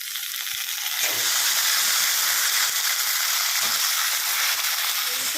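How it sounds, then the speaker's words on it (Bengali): Drained taro greens dropped into a hot pan of oil burst into a loud, steady sizzle and hiss that starts abruptly about a second in and carries on with faint stirring clatter beneath. "এবার আমি দিয়ে দিচ্ছি জল ঝরিয়ে রাখা কচুর শাকটা"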